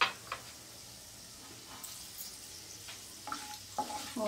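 Chana dal, urad dal and cashews roasting in a pan for upma, a soft low sizzle with scattered stirring scrapes and light clinks toward the end, close but fairly quiet.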